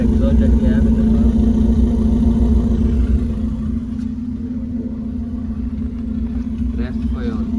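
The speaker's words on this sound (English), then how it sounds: "Short pipe exhaust that we have in the car." A Suzuki car engine with a short pipe exhaust runs close by at a steady loud idle, dipping slightly partway through and then holding its rumbling drone.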